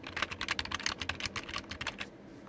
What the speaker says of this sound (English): type in your current save file